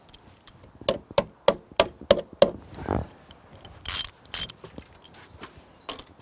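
A nut is tightened onto a washer with a wrench, a quick series of sharp ratcheting clicks and clanks, close and distinct, followed by a few scattered metallic knocks.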